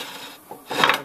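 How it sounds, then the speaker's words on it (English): A front track roller on a JCB micro digger slides out of its guide with a short metallic scraping rasp, close by, rising in the last half second. "So the front roller just now slides out"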